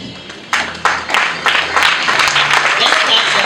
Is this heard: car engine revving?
no